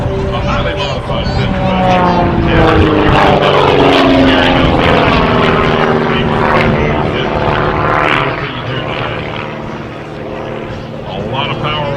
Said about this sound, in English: a lot of power on the nose of the airplane, almost 400 horsepower under the hood